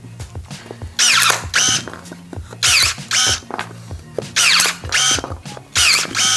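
Worcraft CSC-S20LiB cordless battery pruning shears cutting a 1 cm thick wooden bar, giving four loud, whining motor bursts at steady intervals, each a shrill squealing cut separated by brief lulls and mechanical clicks, close by.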